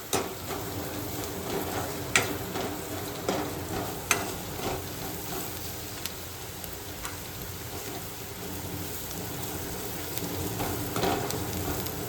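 Spices, salt and turmeric stirred into garlic frying in a pan: a steady sizzle and crackle with occasional sharp scrapes and clinks of the spoon against the pan, close and continuous.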